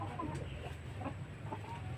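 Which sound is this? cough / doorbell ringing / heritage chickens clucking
heritage chickens clucking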